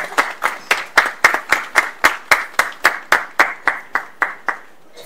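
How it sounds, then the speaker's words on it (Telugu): Rhythmic, evenly spaced clapping from a church congregation at an anniversary celebration, loud and steady, roughly four claps per second, fading out at the end with no talking over it. "అందరూ చప్పట్లు కొట్టాలి."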